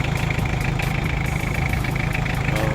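A repaired Toyota 2C diesel engine idles steadily and loud, a constant low rumble with an even rhythmic chug and no voices.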